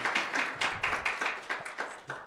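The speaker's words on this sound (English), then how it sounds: "A round of applause for Nazreen." Rhythmic clapping from a small audience at an institutional research presentation competition, with even, distinct claps repeated at a steady pace for a couple of seconds.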